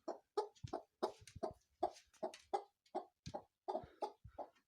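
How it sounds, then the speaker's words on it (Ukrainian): A broody hen clucks repeatedly in short, throaty bursts at a steady, insistent pace, close by with no talking. "Оцей звук якраз таки і є признаком того, що ця курка вже стала квочкою"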